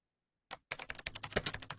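Quick, close clicking of computer keys, a short burst of typing that starts after a brief pause and runs steadily to the end.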